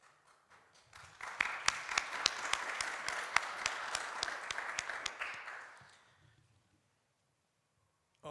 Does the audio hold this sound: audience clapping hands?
yes